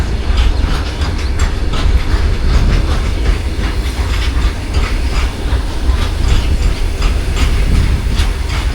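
A long freight train with more than 60 wagons rolling past close by, a loud continuous rumble with rhythmic clickety-clack of wheels over rail joints.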